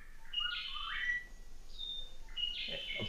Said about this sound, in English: A blackbird.